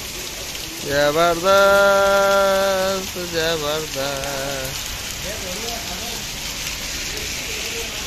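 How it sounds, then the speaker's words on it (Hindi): Heavy rain, with hail, pours down in Faridabad during hot weather as a steady, dense patter throughout, while a voice speaks loudly over it for the first few seconds. "बड़ी जबरदस्त बारिश, फरीदाबाद का माहौल ठंडा होता हुआ इस कड़कड़ाती गर्मी में आज जबरदस्त बरसात हुई है"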